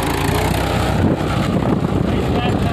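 A tractor sowing seeds in a field, its engine a loud, steady low rumble mixed with wind buffeting the microphone throughout, with some talk faintly underneath.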